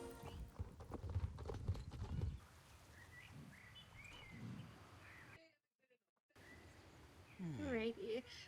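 Horse hooves clip-clop steadily in a video game ride, with a neigh and faint birdsong around them; a brief silent gap breaks the sound, and a voice speaks near the end.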